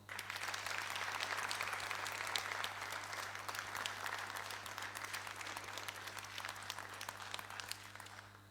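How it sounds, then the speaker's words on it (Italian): An audience at a Neapolitan talent show applauds steadily for several seconds, a dense wash of clapping that fades gently at the end over a constant low hum. "Applauso."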